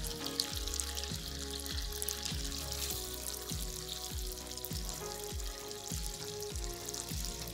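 Onion and ginger pieces frying in a pan with beef for black pepper beef, a steady soft sizzle with regular stirring scrapes and clinks at an even pace, no talking.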